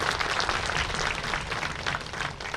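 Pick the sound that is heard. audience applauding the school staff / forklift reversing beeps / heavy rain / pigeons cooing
audience applauding the school staff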